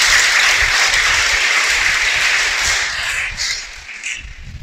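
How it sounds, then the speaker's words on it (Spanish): Sustained crowd applause, many hands clapping at once in a dense wash that fades slightly toward the end. "Dale un aplauso."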